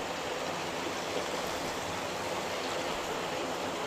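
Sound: river water flowing into fish pond inlet

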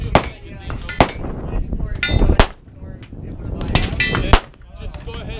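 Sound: Cobalt Kinetics AR15 rifle being fired

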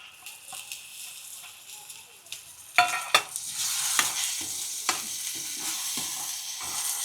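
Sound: boiled lablab beans added to frying spices and stirred

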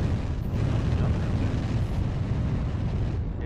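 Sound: artillery strike explosions in the video game MechWarrior Online

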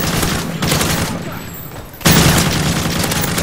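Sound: explosion and gunfire in Call of Duty MW3 video game

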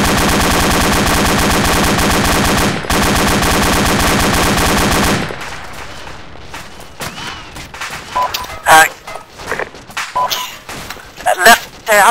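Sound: machine gun fire in the video game Arma

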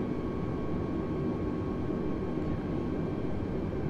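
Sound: Airbus A320 landing approach, from video game Flight Simulator 2020

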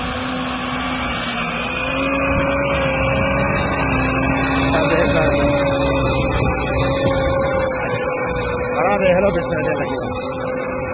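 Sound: tractor engine running at 1800 rpm

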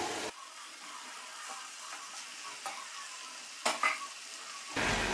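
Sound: stirring spaghetti noodles with sauces in a pan

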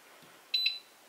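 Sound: Bosch induction range timer beep

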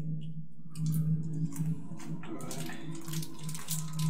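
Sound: water dripping sound effect in a tabletop RPG session

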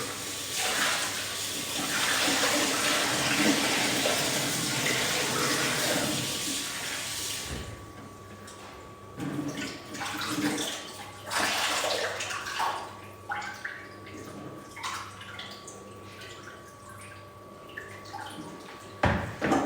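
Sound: washing hands under running tap water

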